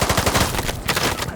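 Rapid automatic bursts from a PPSh submachine gun in a large multiplayer Vietnam-era shooter match, a fast rattling stream of sharp shots, loud and close, with a brief break before firing resumes.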